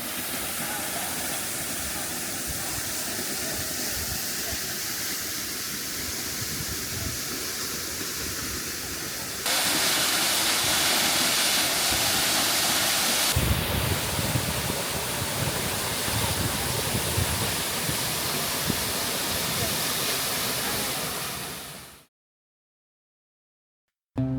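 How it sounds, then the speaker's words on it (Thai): A waterfall on Jeju drops 23 metres over a volcanic rock cliff straight into the sea, a loud, unbroken hissing roar that swells partway through, then cuts off abruptly into silence. "สายน้ำไหลผ่านหน้าผาหินภูเขาไฟสูง 23 เมตร ก่อนไหลลงทะเล"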